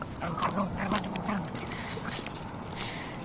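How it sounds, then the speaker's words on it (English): A dog plays with a stick outdoors, giving short snuffling and whimpering sounds with scuffling and light clopping movement, loudest early on then settling to a steady low rustle, with no talking. "My dog loves sticks."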